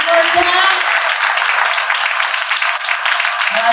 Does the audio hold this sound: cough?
no